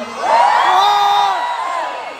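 Crowd at a barley product event shouting and cheering in one loud, sustained collective yell that rises, holds, then trails off with scattered whoops.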